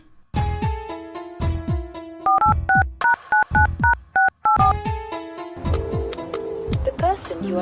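Telephone keypad tones dial a number in a Telugu village film scene, a quick run of short paired beeps rising over a background of other clattering sounds and tones.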